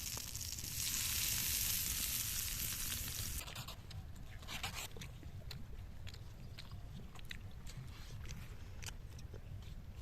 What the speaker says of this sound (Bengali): তেলটা গরম হয়ে গেছে আমাদের এবার এই বেগুনটা আমরা দিয়ে দেবো সুন্দরভাবে মাঝখানে বসিয়ে